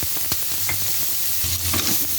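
Garlic, onion and chili sizzle steadily in a hot pan while a utensil stirs them, with soft scraping strokes over the continuous frying hiss, close up and with no voices.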